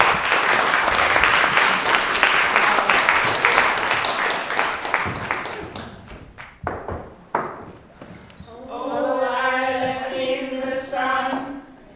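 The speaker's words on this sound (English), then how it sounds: "Let's give them a big clap" An audience claps in a dense burst of applause that thins into scattered claps and fades, followed by a single voice speaking.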